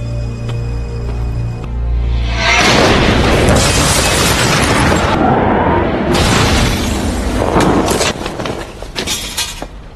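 A deep, roaring blast of a car exploding in a film erupts after a quiet start, rumbling loudly for several seconds, then a second surge of crackling debris and fading rumble.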